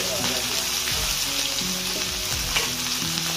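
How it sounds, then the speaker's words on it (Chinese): Steady, close sizzling and crackling of blanched cured fish frying in a pan over medium-low heat, continuous throughout, with a faint voice and tonal hum in the background. "然后呢，我们转这个中小火，把这个鱼煎一下"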